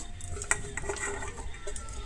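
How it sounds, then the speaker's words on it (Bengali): Onion being crushed and stirred in a pan with spices, soft scraping and stirring taps over a low background sizzle. "এই পেঁয়াজটা একটু পিষে নেব।"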